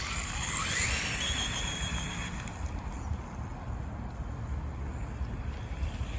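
A WLToys 124008 RC car accelerating hard during a top-speed run, a steady broadband whir with a rising whine at the start that settles into a continuous rushing drone.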